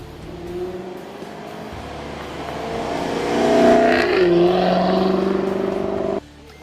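Jaguar F-Type R with active exhaust flaps running close by, a steady droning engine that swells in a brief rev before settling and cutting off at the end.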